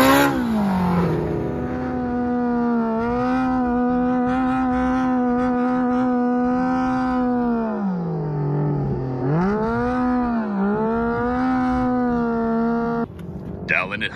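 An off-road sand car revs hard on the Glamis sand dunes near Oldsmobile Hill, its engine pitch climbing, dipping and surging again up close, with a rattle at the end.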